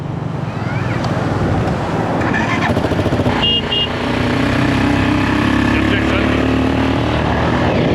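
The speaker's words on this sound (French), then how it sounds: "C'est ça la vie d'artiste, les gars. Faire du quad." Quad bike engine buzzing steadily on a beach at Cox's Bazar, Bangladesh, mixed with wind buffeting the microphone and surf in the background, with people talking over it throughout.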